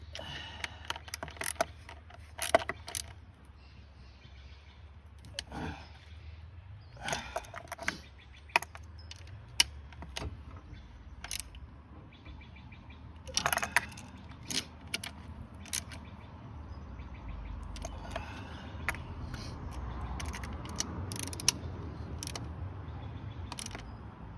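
Hand tools tightening the bolts on a 2015 Honda Fit intake manifold, heard as scattered metallic clicks and ratcheting taps close by in a fairly quiet space, irregular and spaced out.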